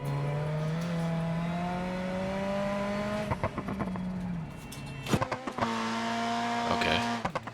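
The engine of a Sherrier Ardente front-wheel-drive coupe in BeamNG climbs through the revs, then hard gear shifts cut it off abruptly in jolting breaks before it pulls again, loud and steady.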